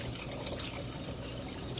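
Liquid pouring steadily into a container while filling it for homemade coffee liqueur, a continuous close splashing trickle with no talk.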